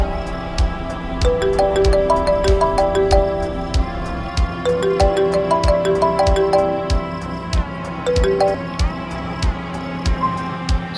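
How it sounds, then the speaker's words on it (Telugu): A mobile phone plays a melodic ringtone for an incoming call in a Telangana short film, with bright repeating notes sounding continuously over a busy, noisy background. "ఫోన్ వచ్చింది"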